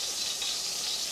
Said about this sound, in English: What's sizzling is that there was that, I guess, that lime juice that I mistakenly put in there earlier.